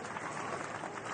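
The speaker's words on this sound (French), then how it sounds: "Des applaudissements et des témoignages de soutien" A marching crowd in Paris applauds police, a brief, dense wash of steady clapping with no pauses.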